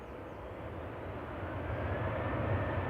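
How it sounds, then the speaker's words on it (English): An Aer Lingus airliner comes in to touch down at Manchester Airport, heard as a distant, steady low rumble of jet engines that grows slightly louder. No voices are heard. "Is Aer Lingus about to touch down?"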